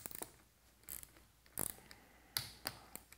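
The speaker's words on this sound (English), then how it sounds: "we can transition to our quarter inch drive torque wrench" A quarter-inch drive torque wrench tightens rifle barrel screws to 65 inch-pounds, clicking in a handful of quick ratcheting bursts with short pauses between, close and fairly quiet.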